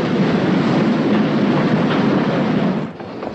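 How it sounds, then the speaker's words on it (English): An express train to London stands at a station platform with a loud, steady rushing rumble that fills the scene, then drops away abruptly near the end, with no talking. "The train now standing at platform 7 in the express for London and will be leaving in 2 minutes."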